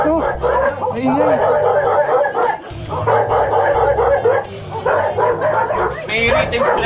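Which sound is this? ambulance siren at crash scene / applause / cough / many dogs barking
many dogs barking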